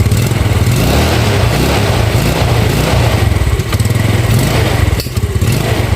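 A Yamaha Nuvo scooter engine, just fitted with a replacement vacuum part, runs loud and close with a rough, pulsing idle and rising throttle, buzzing continuously with no voices over it.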